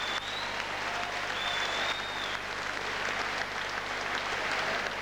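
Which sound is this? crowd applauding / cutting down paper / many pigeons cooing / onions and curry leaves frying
crowd applauding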